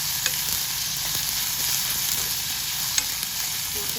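Onion sautéing in a pan for banana flower vegetable, a dense continuous sizzle heard up close with a couple of faint stirring taps, no voices.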